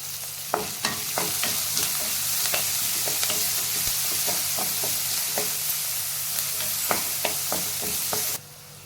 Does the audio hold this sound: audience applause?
no